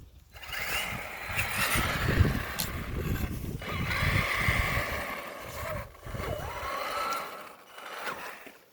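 A Traxxas Summit RC truck runs in low gear, its electric drivetrain whirring and grinding steadily up close, rising and easing in surges with short gaps.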